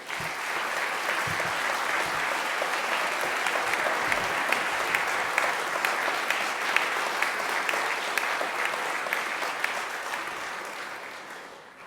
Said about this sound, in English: The staff who were at Ski Week, please, to stand and take a round of applause from you, from the students.